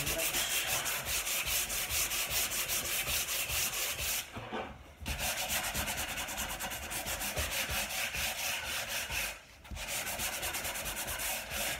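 A wooden dining table is sanded by hand in steady, rapid back-and-forth rasping strokes, close and continuous, with two brief pauses partway through.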